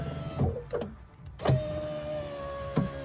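Electric power window motor on an Opel Vectra C, several short whirring runs as the glass is raised and lowered, close and clear, separated by brief pauses and clicks.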